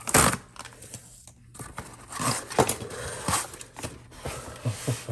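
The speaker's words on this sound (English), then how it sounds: "So let's go ahead and rip this open." Shipping package for a 2021 Apple MacBook Pro being ripped open up close: crinkly tearing and crumpling bursts of packaging, with a brief pause before more rustling and scraping.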